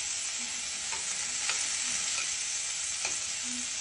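Cauliflower and aubergine with masala frying in a pan, a steady close sizzle with occasional scraping strokes of a spoon stirring.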